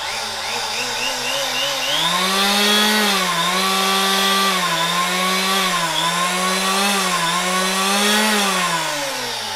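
A Makita 580W electric planer gets a trigger test: its motor spins up about two seconds in, then holds a loud, steady, close whine that wavers slightly in pitch.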